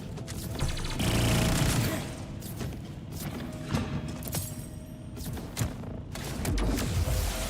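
Gunfire from the Prosperous Calinated Roulette gun in Borderlands 4, clusters of rapid shots and impacts mixed with mechanical clatter and thumps, loud and uneven, with a voice speaking at times.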